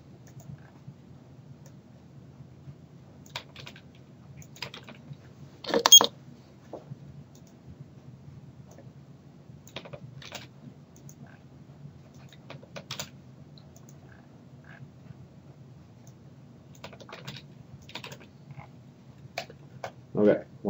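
Computer keyboard typing and scattered mouse clicks while text is cut and pasted from a Word document into a program, soft and intermittent with a couple of louder click bursts, under a low background hum.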